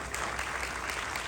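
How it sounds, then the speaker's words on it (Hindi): Loud, dense applause from a large audience at a Mi Lifestyle GTS business plan presentation, a steady wash of clapping with no pause across the short stretch. "जोरदार तालियां।"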